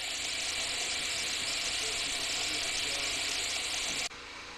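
IndyCar race car engines running together on the starting grid at the Grand Prix of Alabama, a loud, steady, dense roar that cuts off abruptly near the end, leaving a quieter background.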